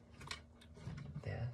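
Candy wrapper crinkling close up in short, dry bursts, with a soft, quiet voice murmuring alongside.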